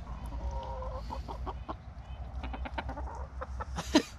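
Homestead chickens cluck in short, repeated bursts close by, with a steady low hum beneath and one louder squawk near the end; no one speaks.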